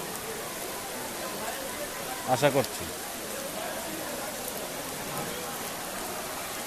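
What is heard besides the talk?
rain falling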